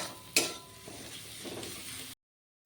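A spice paste with chopped tomato and salt, for a soybean curry, fries over a low flame: a single sharp utensil clink against the pan, then a soft, faint sizzle and light stirring that cuts off abruptly.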